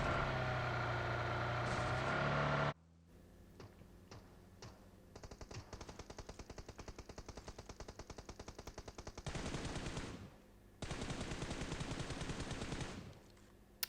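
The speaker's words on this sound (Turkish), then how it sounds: "Ya sanırım 300-500 metredir buradan silah sesleri aldım." Distant automatic gunfire in the mobile battle-royale game PUBG Mobile: rapid bursts of shots, fairly faint, following a louder noise and repeating with short gaps.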